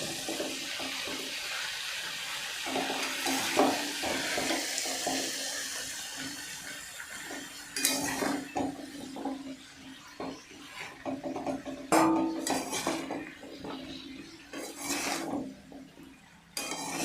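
Malabar spinach seeds are stirred in a pan over a raised gas flame, making a continuous rushing sizzle with intermittent spatula scrapes and clatters and no voices.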